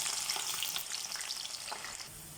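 Onion fries in olive oil in a wok, producing a soft, even sizzle with faint crackles and stirring, fairly quiet and without speech.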